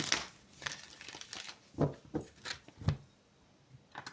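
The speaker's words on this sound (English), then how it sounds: "Give these a shuffle and we'll see who's coming up next." Tarot cards shuffled by hand for a zodiac reading, giving a series of soft papery riffles and crisp flicks, with a few sharper snaps near the middle and end, close and fairly quiet with no voices.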